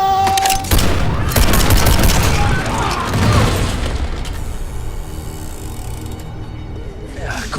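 Pyrotechnic explosions and rapid gunfire effects erupt on an action movie set, a dense loud barrage of booms and shots that fades into a lingering rumble and scattered debris.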